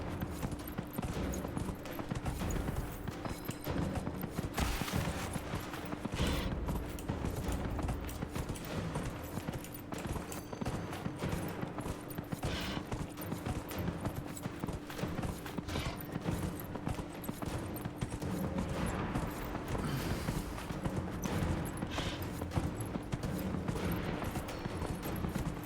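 Horse hooves gallop in Dragon Age: Inquisition, a fast continuous clip-clop drumming with creaks and a low steady hum beneath, loud and relentless throughout with no voices.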